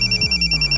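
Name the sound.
telephone ringing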